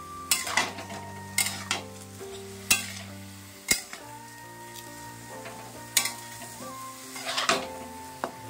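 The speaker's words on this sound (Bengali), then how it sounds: "ডালগুলো দিয়ে আমি আবার কিন্তু নাড়াচাড়া করবো" Rice and lentils for khichdi stirred in a pot over the heat: sharp spoon clinks and scrapes against the metal come every second or so over a soft background sizzle, with no talking.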